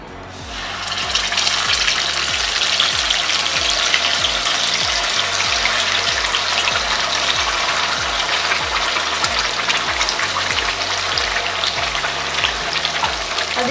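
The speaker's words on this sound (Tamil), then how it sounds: "எண்ணெயிலேயே ஒரு 5 நிமிஷம் நல்லா வதக்கிக்கோங்க" Masala mixture for a Salem-style pepper egg gravy frying in hot oil, a loud, steady, close sizzle that runs unbroken after a brief quieter start, with faint scraping of stirring underneath.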